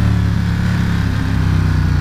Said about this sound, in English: rev the bike to full throttle, then just dump the clutch